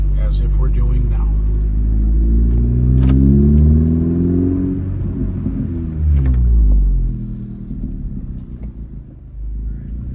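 A modified 2019 Honda Civic Si turbo with a six-speed manual revs and accelerates up through the gears on a test drive, rising and falling in pitch, with the steady rumble of driving underneath.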